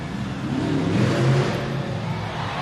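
Monster Mutt Dalmatian monster truck roaring through a victory lap around an arena floor at a Monster Jam event, with a steady, loud engine drone that swells in a rev near the middle and then eases off.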